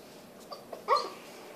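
A hungry puppy, excited about food, gives a few short whimpering yelps and whines, faint and close by in a quiet room.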